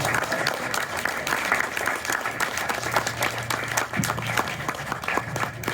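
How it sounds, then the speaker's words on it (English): A convention crowd at a Mortal Kombat 30th anniversary panel applauds steadily, dense clapping filling the whole stretch with a low hum of voices underneath. "Round of applause."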